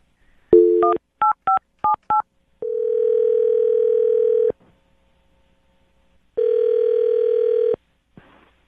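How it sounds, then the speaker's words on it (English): A telephone keypad sounds a quick series of dialing tones, then a steady dial tone holds for a couple of seconds, stops, and returns again, clear and alone. "I'm going to dial his phone number right now and see if we can get that answer for you"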